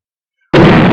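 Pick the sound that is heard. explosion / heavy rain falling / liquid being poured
explosion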